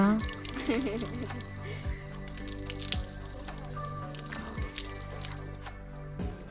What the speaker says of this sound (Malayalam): കുറച്ച് വെള്ളം ഒഴിക്കുന്നുള്ളൂ കേട്ടോ, എനിക്ക് നല്ല കട്ടി വേണം